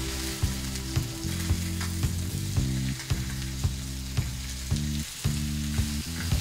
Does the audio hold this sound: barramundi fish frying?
yes